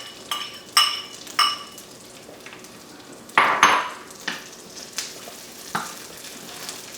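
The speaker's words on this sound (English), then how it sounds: "I will go and put these sauteed onions and bacon back." Sautéed onions and bacon drop back into a hot pan with a sizzle, marked by several sharp clinks and a louder clatter of utensil against pan midway, close by.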